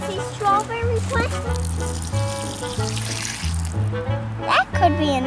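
Water runs and splashes steadily onto a strawberry plant while a person talks over it, with music or voices playing in the background throughout.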